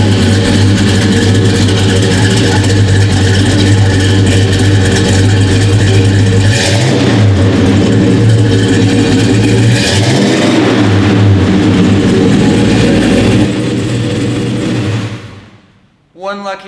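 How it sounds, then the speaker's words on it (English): Fully restored 1970 Chevelle SS396 with a four-speed, its 396 engine rumbling loud and close after ignition with deep steady idle and a couple of revs, then cutting off near the end. "Then, I turn the ignition and listen to this Chevelle rumble."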